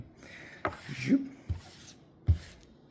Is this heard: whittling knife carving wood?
yes